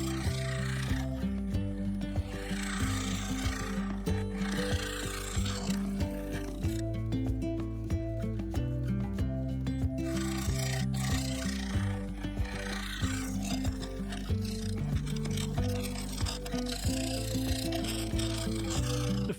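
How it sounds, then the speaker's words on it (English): Small negative rake scraper refining the inside of a spinning cherry bowl on a lathe, a soft, continuous rubbing and scraping with faint rhythmic ticks, close and fairly quiet, pausing briefly midway. "I switched to the small negative rake scraper to refine the surface and blend and fare the base into the sidewall."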